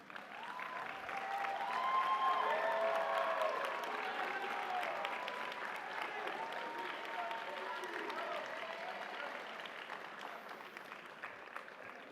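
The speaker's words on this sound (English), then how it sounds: "You can applaud for them." A graduation audience at Catawba College claps steadily, a broad, moderately distant applause lasting the whole clip with faint voices and cheers woven through.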